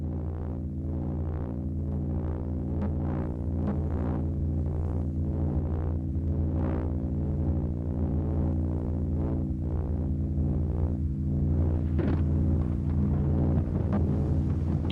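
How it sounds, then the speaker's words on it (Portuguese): A steady low electronic hum with faint crackles and soft periodic swells, a radio receiver picking up the signal of distant lightning strikes, continuous with no voices. "Captando esse sinal, você pode ouvir o som de todos os raios em todos os lugares."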